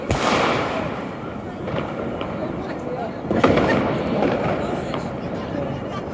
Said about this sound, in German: Also es wird doch ein bisschen geknallt.